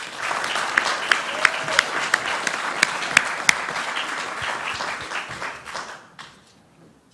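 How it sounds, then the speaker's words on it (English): An outdoor crowd at a Ballina Shire Australia Day ceremony applauds for several seconds, dense clapping with a few sharp claps that stand out, then fades out near the end. "Give them a big round of applause."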